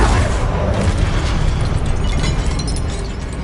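A Confringo blasting curse going off in Hogwarts Legacy: one loud, sustained, crackling explosion filling the whole stretch, then easing off slightly at the close.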